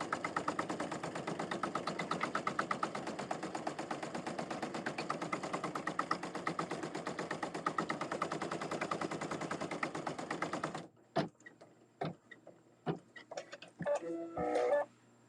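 An embroidery machine stitches out a placement line with a fast, even mechanical rattle for about eleven seconds, then stops, followed by a few scattered clicks and handling noises.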